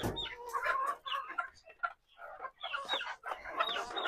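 Chickens and young roosters clucking and squawking on a farm, a busy overlapping flock close by with irregular bursts of calls and brief pauses.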